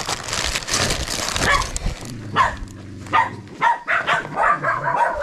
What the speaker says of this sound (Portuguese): Tinha um cachorro aqui.